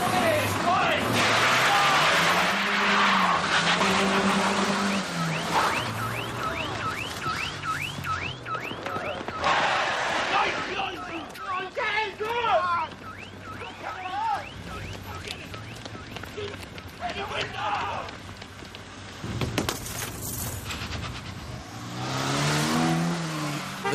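A pursuing car in a police chase revs hard and its tyres squeal in loud bursts, with shouting voices and sirens mixed in over the engine roar.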